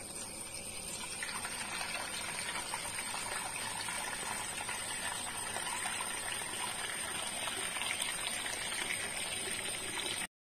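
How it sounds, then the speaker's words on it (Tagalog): Water pours steadily from a kitchen tap while apples are rinsed, a constant close hiss and splash with slight changes in flow, no voices. "huhugasan po natin yung mansanas"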